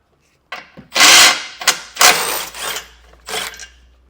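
Bolts coming off the bottom flange of a 2018 Jeep Cherokee's bumper beam with a 15 mm socket: close, bursty ratcheting and metallic clatter in several loud spurts over about three seconds.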